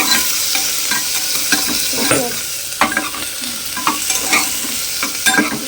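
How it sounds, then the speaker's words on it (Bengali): Meat being fried and stirred with spices in oil and spice water, a loud continuous sizzle broken by frequent stirring and scraping clatters, no talk. "এখানে আমি মাংসটা কষছি"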